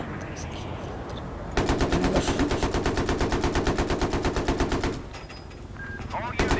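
Rapid automatic gunfire in the video game Battlefield 3, a loud sustained burst of evenly spaced shots lasting several seconds, with quieter game noise before and after and a voice talking over it.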